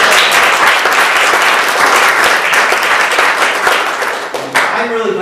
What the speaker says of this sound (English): Let's give her a nice applause.